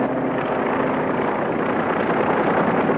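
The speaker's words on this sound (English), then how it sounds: "Re-entry parties are leaving the Rendova now by helicopter." A helicopter carries re-entry parties off the Rendova after the 1952 Operation Ivy nuclear test at a Pacific atoll, giving a steady, loud, unbroken engine-and-rotor roar that fills the whole stretch with no voices.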